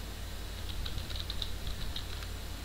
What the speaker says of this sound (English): from here you can type anything you want